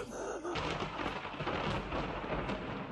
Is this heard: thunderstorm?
yes